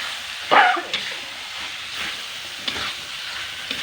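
Chicken meat stirred as it fries in a pan, a moderate sizzle with a few sharp scrapes and clinks of the utensil against the pan, fairly close and without voices.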